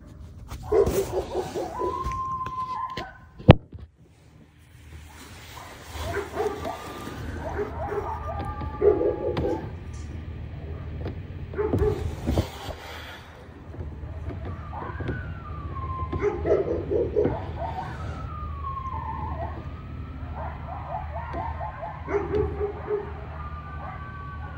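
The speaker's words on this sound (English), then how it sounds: "Dogs are going crazy. The coyotes are back here." Guard dogs bark at coyotes in bursts across a long stretch, overlapping with rising and falling siren-like howls and whines, with a sharp knock early on and steady low background noise.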